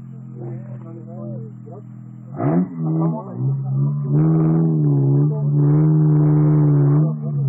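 A Suzuki off-road car at an off-road event in Lazarovo revs its engine in loud, rising bursts, close by, with people shouting and talking over the roar.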